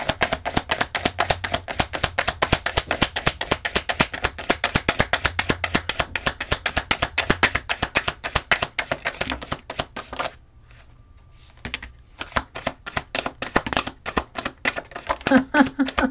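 Rapid, crisp riffling clicks of a card deck being shuffled up close, repeated in bursts with a brief quiet pause midway before resuming.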